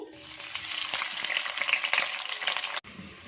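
Chopped medium onion hits half a cup of hot cooking oil for dal palak, bursting into a loud, close crackling sizzle with stirring scrapes, steady frying hiss that cuts off abruptly near the end.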